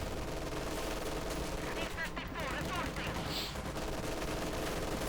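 A Company of Heroes 2 battle with Pak 40 guns firing: dense, overlapping bursts of gunfire rattle continuously at a fairly low level, with a few sharper shots standing out.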